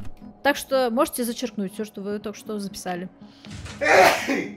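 Someone speaks Russian for a few seconds, then a loud, sharp sneeze bursts out at the end, in the video game The Invincible.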